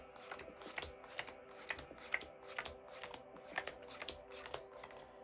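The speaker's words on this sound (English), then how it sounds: "Now, go ahead and deal 4 cards again. We're going to make 4 piles just like we did before." Playing cards dealt one by one into four piles on a table, making a quick, regular run of soft flicks and slaps up close, with no voices.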